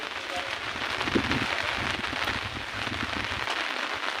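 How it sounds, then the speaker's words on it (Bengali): Steady rain falls at midday after Cyclone Remal, a dense, even hiss of drops on surfaces that holds at the same level throughout without pause. "এখনো বৃষ্টি পড়ছে দেখো কীরকম"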